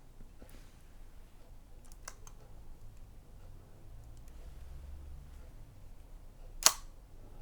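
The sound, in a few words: camera shutter firing at half second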